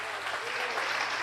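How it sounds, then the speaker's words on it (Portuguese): A church congregation applauds in continuous, dense clapping that fills the room evenly and carries on at a steady level throughout. "Pode aplaudir a Jesus."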